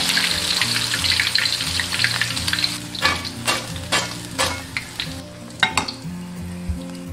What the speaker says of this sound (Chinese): 大概炸个20-30秒就可以捞起来。